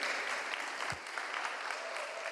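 Applause from a church congregation for a pair of boys who just performed, fairly faint and distant, steady clapping for a couple of seconds with a low thump partway through.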